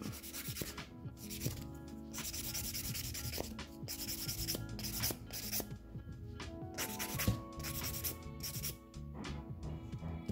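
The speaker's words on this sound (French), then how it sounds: "Donc là, je vais pouvoir venir et essayer de limer ici." A hand-held nail file scrapes back and forth across a gel nail to remove the gel, making close, quiet, rhythmic rasping strokes in short bursts with brief pauses between them.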